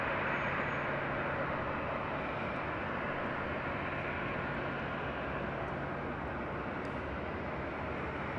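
A Southwest airliner taking off from runway 24 left at LAX, a steady broadband jet roar held at constant loudness for the whole stretch, with no voices over it.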